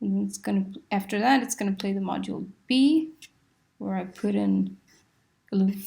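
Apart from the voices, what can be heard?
No everyday noise stands out behind the speech.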